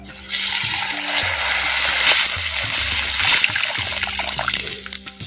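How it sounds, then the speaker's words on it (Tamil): About a quarter litre of fresh water is poured into coconut masala sautéed in oil in a pan for a country chicken curry, making a loud, continuous splashing pour that runs close by for several seconds. "நமக்கு தேவையான அளவு பச்சை தண்ணி கால் லிட்டர் சேர்த்துக்கிறேன்"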